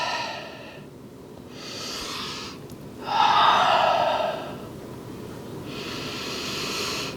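Slow, deep breathing during a yoga hip-mobility stretch, with soft hissing inhales and exhales in long swells, the loudest breath near the middle, close and alone without talk.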